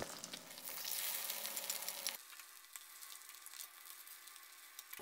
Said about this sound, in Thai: แต่ผมก็จะทอดต่อให้เขาสุกกรอบนะครับให้แป้งเขาเหลืองกรอบเลยครับ